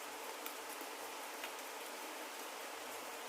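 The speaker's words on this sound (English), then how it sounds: "In the background, the gentle sound of rain plays like a soothing melody," Gentle rain falls steadily, a soft, even hiss of drops with faint scattered ticks, quiet and continuous with no talking.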